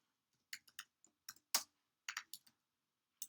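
Crisp, close keystrokes on a computer keyboard come in short uneven bursts, some fast runs and some single clicks, separated by near-silent pauses and with no talking.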